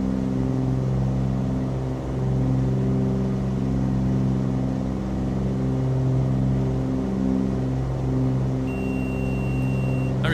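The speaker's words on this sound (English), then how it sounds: "Those props making all the noise." Propeller engines of a Flysimware Cessna 414 in the MSFS 2024 flight simulator give a steady, loud droning hum with a layered tonal whir that holds constant throughout.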